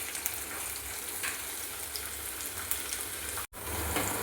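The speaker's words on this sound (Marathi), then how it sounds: "कांदा हलकासा गुलाबी रंग येईपर्यंत परतून घ्यायचा" Chopped onion sizzles in a pan for Veg Maratha, a steady close frying crackle with a short break near the end before it carries on. No one speaks.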